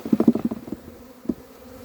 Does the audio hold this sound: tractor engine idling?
no